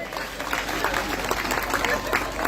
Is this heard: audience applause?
yes